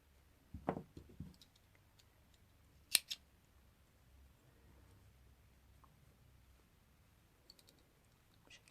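Scissors snip through yarn on a white crocheted flower loofah, giving a few soft, close cuts early on, a sharper pair of snips around three seconds, and faint clicks near the end in an otherwise quiet room.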